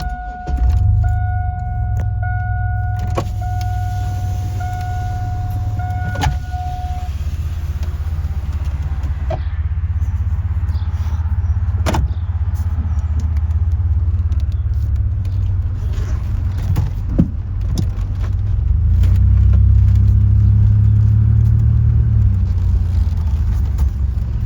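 A 2000 Chevrolet Blazer ZR2 with a new fuel pump and leaf spring bushings is driven, its engine and road rumble steady inside the cab, with early clicks, a brief chime and occasional rattles and clunks, no talking.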